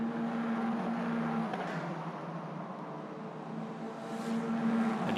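An Italian F4 single-seater race car drones steadily at the Barcelona circuit while entering the pit lane, a sustained engine tone at moderate distance.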